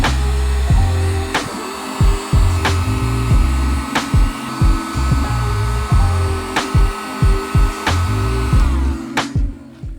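A heat gun blows steadily and loudly while melting a solder seal connector onto wires for a dashcam hardwire kit, with a continuous airy roar broken by repeated short clicks and knocks throughout.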